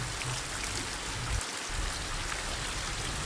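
Heavy monsoon rain in the Malnad region pours steadily, a dense hiss of countless drops hitting surfaces, loud and continuous with no voices.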